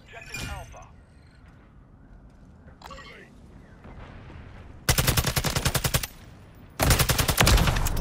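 Automatic gunfire in a Modern Warfare 3 match, with a TAQ-56 rifle in the loadout: two loud rapid bursts of rattling shots after quieter game sounds and short noises, with talk nearby.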